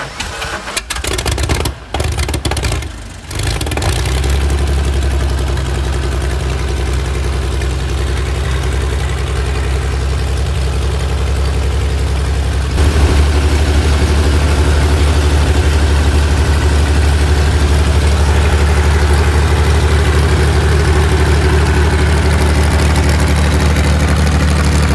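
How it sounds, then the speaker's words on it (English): A 285-horsepower six-cylinder aircraft engine for small planes such as the Beech Bonanza, starting with a few sputtering bursts and then settling into a loud, steady, deep running roar in a workshop. "This 285-horsepower six-cylinder powers small aircraft like the Beech Bonanza."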